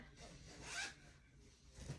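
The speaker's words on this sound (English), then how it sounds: "So you can just unzip it and take out some of this." A zipper on a pillow cover is pulled open in one quick rasping stroke, close and fairly quiet, with a soft rustle of fabric afterward.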